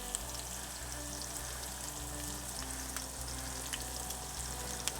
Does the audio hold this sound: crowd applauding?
no